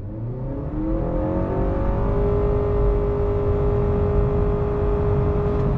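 A 2021 Honda Accord Hybrid sedan revs up smoothly in non-sport mode and holds a steady, rising whine as it accelerates, heard from inside with constant drone.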